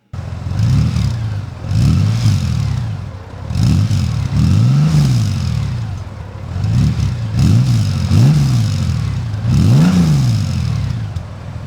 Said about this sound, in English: in case you didn't quite hear how this motorcycle sounds on the stock mufflers